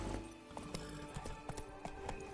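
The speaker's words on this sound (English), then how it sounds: "I can no longer run at full pelt on the horse." A horse's hooves clip-clop in a quick, even rhythm in The Witcher 3, a steady run of close, distinct hoofbeats with no talk.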